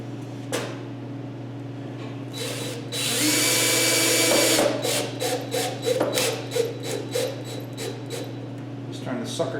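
A power drill drives 3-inch screws into wood, with a sustained whine followed by a series of short pulsing bursts and knocks over a steady background hum, close by.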